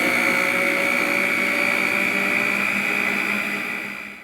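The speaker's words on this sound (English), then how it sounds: "turn your blender back on again, and you're gonna let this combine for a little bit longer" An electric blender whirs steadily at high speed, loud and close, mixing peanut butter cookie dough before it winds down at the end.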